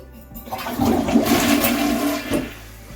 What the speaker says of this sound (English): Let's flush the toilet and see what it does now.